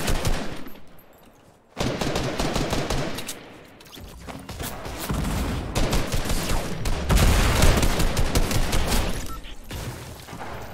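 Rapid bursts of automatic gunfire from a Fortnite match crackle loudly and almost continuously, with short pauses between volleys and dense overlapping shots toward the end.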